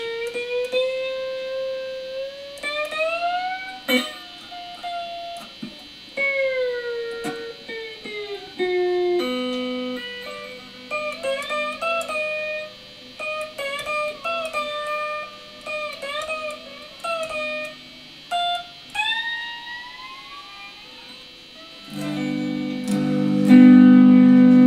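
A homemade skateboard guitar plays sliding, bending notes with twangy tones, pausing and restarting, ending on a louder strummed chord.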